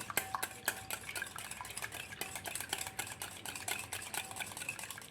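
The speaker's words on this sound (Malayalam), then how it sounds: "നന്നായിട്ടൊന്ന് പതഞ്ഞ് വരണം അതുവരെ ബീറ്റ് ചെയ്യണം" Eggs being beaten with a whisk in a bowl until frothy for carrot cake batter, a quick continuous rhythmic clicking and tapping, close and soft.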